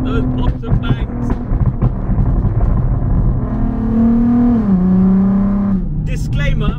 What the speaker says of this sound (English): there is a hole in the back box, which is why there's so many pops and bangs